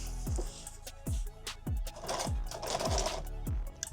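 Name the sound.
sewing machine stitching a pistol magazine pack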